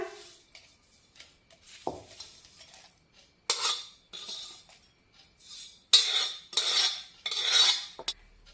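Green chillies and peanuts are pounded for a spicy Maharashtrian thecha, heard as irregular clusters of clinking, scraping knocks of a utensil against a vessel, separated by near silence, close and moderately loud.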